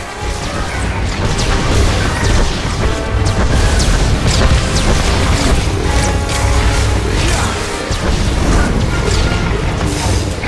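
Heavy missile attack from an Annihilation droid striking in a Star Wars: The Old Republic raid, a loud, dense barrage of crashing booms and metallic smashes rolling continuously with a brief dip near the end.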